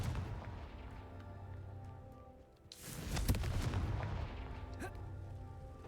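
Confringo fire spell blasting in Hogwarts Legacy: after a quieter lull, one sudden booming burst lands close and loud, followed by a rumbling, crackling tail under game ambience.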